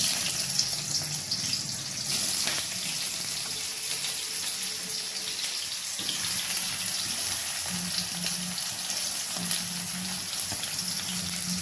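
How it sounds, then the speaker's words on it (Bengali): Chopped onions frying in white oil in a wok over a high gas flame, a loud, continuous sizzle and crackle that holds steady throughout with no talking. "জাস্ট পেঁয়াজটা দিয়ে একটু ভেজে নেব"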